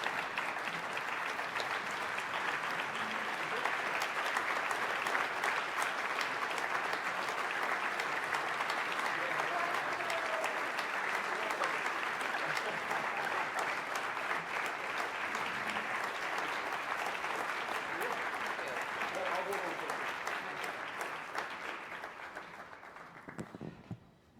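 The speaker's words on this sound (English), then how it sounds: "Guys, big round of applause." Sustained applause from an audience at an annual awards celebration and fundraiser, loud and steady for over twenty seconds with some cheering mixed in, before tapering off at the end.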